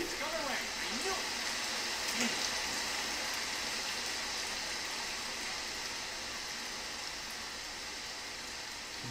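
Steady rain in the video game Lost Odyssey, a continuous broadband hiss of falling water that holds evenly throughout, with a few faint tonal game sounds early on.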